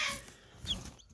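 Six-month-old first-year hens cluck softly on a farm, a brief faint burst of fowl clucking that fades into near silence.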